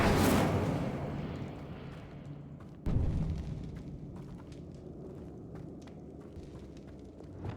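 Incendio fire spell cast in Hogwarts Legacy: a loud whooshing burst of flame that fades into a crackling tail, then a second sharp blast a few seconds later, decaying into low rumble and scattered crackles.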